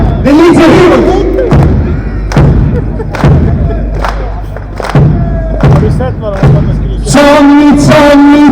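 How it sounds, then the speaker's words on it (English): A rally crowd claps hands together in a steady rhythm of loud, booming claps, with cheering voices and shouting rising over and between the beats, ending in a burst of chanting. "I want us to clap our hands on this."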